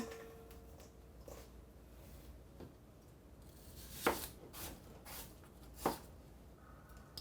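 Kitchen knife chopping an apple on a cutting board at home: a few sparse, quiet, sharp cuts, with two distinct chops standing out over a low background and no one speaking.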